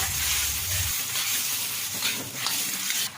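Scrambled egg sizzles and fries in a pan of sautéed spice paste, then water is poured in, giving a steady close hiss with a brief low rumble of liquid at the start and scraping stirs.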